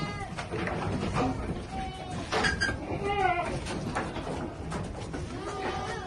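Goats at daily feeding time bleat in overlapping calls over a dense, noisy farmyard background, several short cries rising and falling close by.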